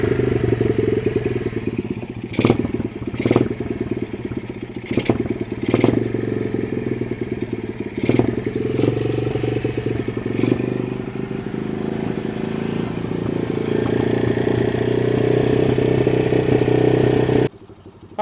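A cheap Amazon 125cc pit bike engine idles roughly and unevenly, a steady close mechanical putter with occasional sharp clattering spikes, running alone until it cuts off at the end.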